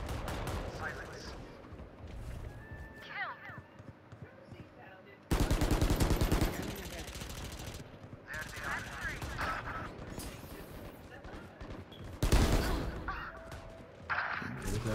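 Gunfire in the video game Valorant, with two loud bursts of rapid shots over a busy background of game effects and intermittent voices.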